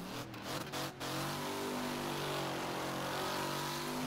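In Wreckfest, a Piper MKII car drifts through a corner, its engine droning steadily with rising harmonic whine over a constant rush of tire and road noise, a few brief dips early on.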